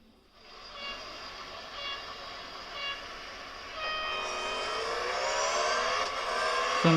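Engine roar from the mobile racing game Real Racing 3 played on a Lenovo Tab M10 HD 2nd Gen tablet, a steady synthetic motor drone climbing in pitch as the car accelerates, continuous and moderately loud.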